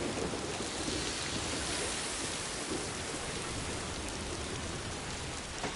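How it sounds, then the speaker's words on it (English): Steady, loud rain pours down in a video game, a dense unbroken hiss with low rumbling underneath like distant thunder, with no voices over it. "Really? Rain?"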